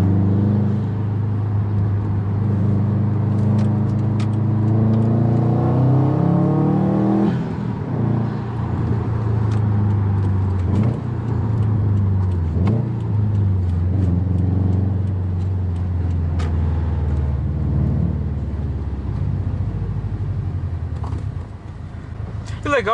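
A Stage 2 Subaru WRX STI with 300 wheel horsepower revs and accelerates up through the gears on a wet road, rising pitch climbing and dropping with each shift, heard from inside the car with occasional talk.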